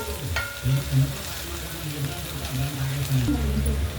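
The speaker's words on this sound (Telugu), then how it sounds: "ఈజీగా ఇలా బెండకాయలు వేయించుకున్నాం" Sliced okra frying in a pan, a dense close sizzle broken by bursts of stirring and scraping, with a low voice in the background at moments.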